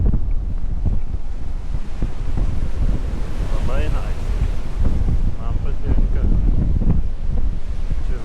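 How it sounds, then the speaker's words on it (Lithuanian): Sea waves wash onto the Bulgarian shore in a steady, loud roar with gusty wind buffeting the microphone, and a faint voice surfaces briefly. "Oi galingai bangelės kedena krantą"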